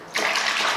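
Cold water runs steadily from a tap after a brief quiet start, a close, continuous gushing hiss filling a basin to wash off a washable coloring plush toy.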